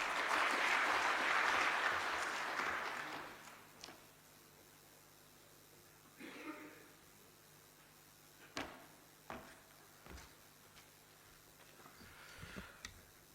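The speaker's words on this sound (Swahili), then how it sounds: "Makofi mengi kwa Profesa." Applause for a professor being welcomed at a Tanzanian government ceremony where public institutions present dividends to President Samia, a dense burst of clapping for about three seconds that then fades, leaving scattered faint knocks in a quiet hall.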